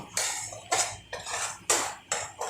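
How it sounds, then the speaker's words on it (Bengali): A spoon or spatula scrapes and clatters against a pan while spices are mixed with potatoes for a Bengali paneer curry, four rhythmic stirring strokes in close succession, fairly close and moderately loud. "এবার ভালো করে সব মশলাগুলোকে মিক্স করে নেব।"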